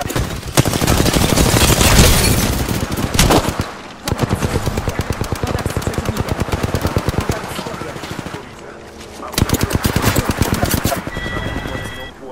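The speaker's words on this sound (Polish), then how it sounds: "Strzelają do mnie." Automatic gunfire in the Apex Legends video game, loud sustained bursts of rapid shots separated by brief pauses, rattling close by throughout with some talk underneath.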